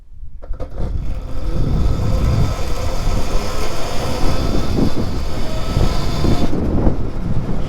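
An electric chopper motorcycle launches in third gear from a standstill up to 30, a loud continuous broadband rush of motor whine and wind roaring steadily for several seconds close to the mic, then easing off slightly at the end.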